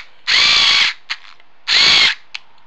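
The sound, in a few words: electric screwdriver driving screw into unthreaded hole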